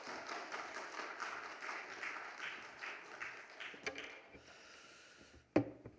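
Church congregation clapping at a Wednesday service as the pastor comes forward: moderate, somewhat distant applause that thins out over several seconds, ending with a sharp knock near the end.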